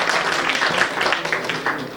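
An audience at an All India Mushaira in the Mayor's Hall applauds, a spread of clapping that rises and dips in uneven bursts over a couple of seconds.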